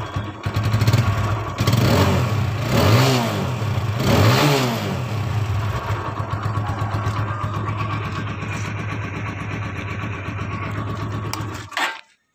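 A TVS Apache 160 motorcycle with its stock exhaust idles with a steady thump and blips the throttle a few times in rising and falling revs. It settles back to idle before cutting off at the end, recorded close up.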